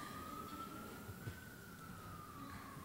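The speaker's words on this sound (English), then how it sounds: "the ambulance must go away" An ambulance siren passes outside, a faint, steady wailing tone that rises slowly and then falls over low background noise.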